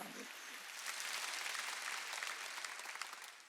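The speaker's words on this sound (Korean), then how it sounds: "이거 박수 치라." Congregation at a Wednesday church worship service clapping together, a dense steady wash of many hands that swells after the first half second and holds loud throughout, fading slightly at the end.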